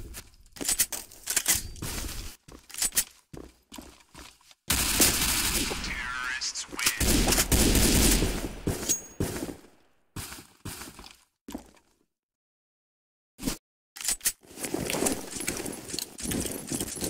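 Revolver shots ring out in the Roblox shooter CBRO, sharp loud bangs scattered irregularly among bursts of other gunfire, game noise and brief quiet gaps.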